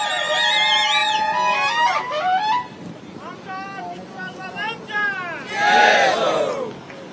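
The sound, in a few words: rally crowd applauding and cheering for Prithviraj Chavan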